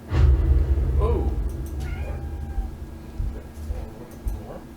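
A cat meows as a jump scare in the horror game Conarium, a short, wavering cry rising out of a dark rumbling ambience, with faint speech around it.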